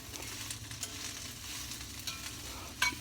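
Sunflower leaves sizzle and fry in a pan while being stirred, a steady crackling hiss with soft scraping strokes and a brief louder clatter near the end, close and moderately quiet.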